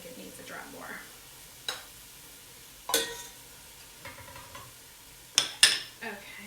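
Greens wilting in butter in a pan while mussels are being cooked, with quiet frying under occasional scraping stirs and sharp clinks of a utensil against the pan.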